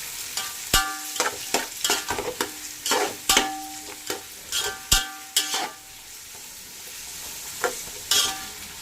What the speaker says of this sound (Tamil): வதக்குன்னு வதக்க போகிறோம்